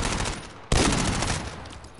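Gunfire in a shooter video game: a burst of rapid shots cracks in abruptly midway, loud and close, continuing as a dense volley over background battle noise.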